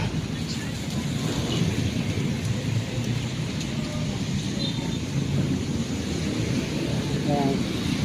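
Steady rain pours outdoors on a flooded street, a dense continuous hiss with low rumbling that fits distant thunder, heard alone at moderate loudness.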